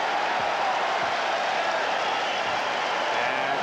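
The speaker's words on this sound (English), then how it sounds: "the cheers from the crowd." A large arena crowd at a Bulls vs Sixers basketball game in Chicago Stadium roars with cheering and applause in a steady, dense wash of noise throughout.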